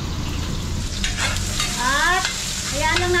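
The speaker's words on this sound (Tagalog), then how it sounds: "At hayaan lang natin magisa yung ating sibuyas at bawang." Onion and garlic sauté in a hot pan with a loud continuous sizzle, close up, with a faint voice or tone drifting in the background.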